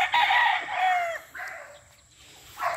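A gamecock stag rooster crows nearby, a loud drawn-out call followed by shorter broken crowing notes and the start of another crow at the end.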